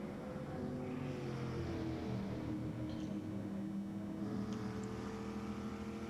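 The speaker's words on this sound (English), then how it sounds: "They sound good, these old cars." Old race car engines in a sim racing video game drone steadily with a sustained, even engine note at moderate level, with no voices over them.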